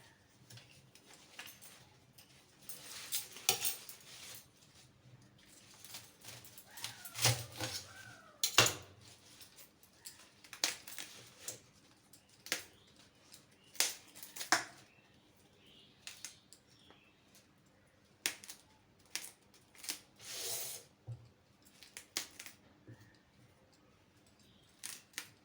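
Cauliflower florets being broken apart by hand, quiet crisp snaps and rustles arriving in scattered irregular bursts, close up with no talk.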